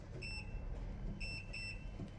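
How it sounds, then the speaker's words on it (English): Faint, high-pitched electronic beeps from a leak sensor in short pairs, repeating over a low background hum. "if something is interfering, you can hear a beep noise."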